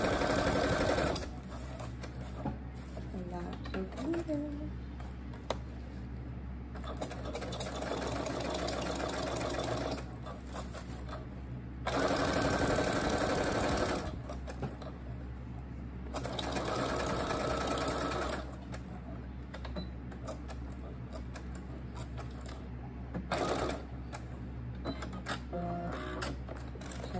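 Sewing machine stitching a glittery tutu, its motor whirring in several long, loud bursts with short pauses between runs, close and alone without talk.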